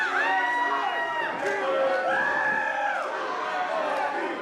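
A wrestling crowd at an AXW Honor event cheers and whoops, with overlapping shouts and chatter filling the hall in a loud, sustained roar.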